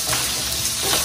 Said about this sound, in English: I'm gonna start sauteing the garlic and onions.